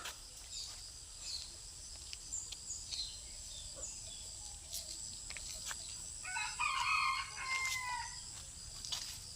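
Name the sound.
rooster crowing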